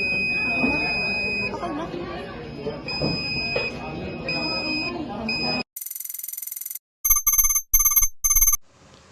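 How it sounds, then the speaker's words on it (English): After a stretch of talking, a harsh electronic buzzer in a robotics project sounds in loud bursts of varying length, separated by silent gaps. "You can hear the difference between low lighting sound of the buzzer and high censored light sound of buzzer."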